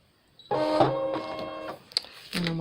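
A Brother ScanNCut cutting machine whirs and buzzes close by in short motorized bursts with tonal humming, stopping briefly and restarting as the blade carriage moves.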